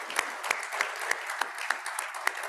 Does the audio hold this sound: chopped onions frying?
no